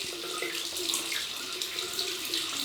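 Steady hiss of tap water streaming into a sink to warm a Gillette Slim Adjustable safety razor, continuous and fairly close with no talk over it.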